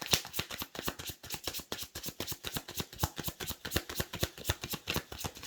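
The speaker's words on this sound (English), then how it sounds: "So I'm going to pull some cards from this tarot deck here." A tarot deck shuffled and cards pulled, with steady rapid riffling and papery slaps repeating close by for several seconds without talk.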